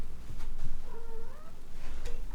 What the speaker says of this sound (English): I have 2 wonderful kitties, they're Scottish Folds.